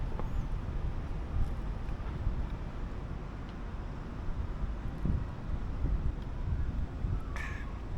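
Breeze blowing across a microphone outdoors on a bridge beside the Okinawa Prefectural Art Museum, a steady low buffeting rumble that continues throughout with no talking.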